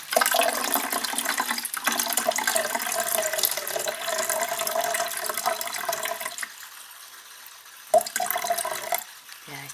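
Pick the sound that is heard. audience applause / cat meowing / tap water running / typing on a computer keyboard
tap water running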